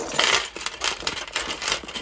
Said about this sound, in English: What's with all the keys?